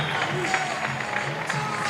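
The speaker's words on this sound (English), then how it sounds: "Huge clap." A crowd applauding at a men's collegiate gymnastics meet, Ohio State at Penn State, after a rings routine, with sustained clapping and cheering layered under a commentator's voice.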